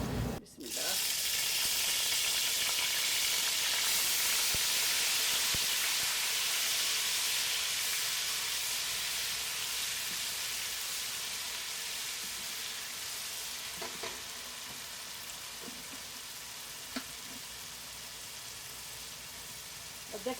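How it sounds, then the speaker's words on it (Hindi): Ginger garlic paste fries in a pot with cloves and green cardamom, giving a steady, close, broadband sizzle and hiss that eases slightly over time, with a few faint stirring clicks. "अदरक लहसुन को अच्छी तरह से भूनेंगे।"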